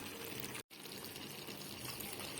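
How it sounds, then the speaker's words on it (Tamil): Water pours steadily in a continuous rushing stream into a cooking pan, briefly cut off for a moment, then continuing. "கொஞ்சமாக தண்ணி சேர்த்துக்கலாம்."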